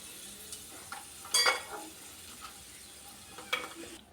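Cardamom pods and cloves sizzle softly in hot ghee in a home kitchen, a low steady fry punctuated by a few sharp clinks of a spoon against the pan.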